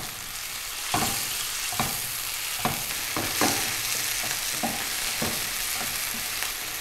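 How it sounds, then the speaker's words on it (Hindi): Cubed chicken sautéing in two tablespoons of oil, a steady close sizzle broken by periodic scrapes and stirs of the pan, with no talking. "चिकन को हमने इतना सौते किया है कि इसका कलर चेंज हो गया है"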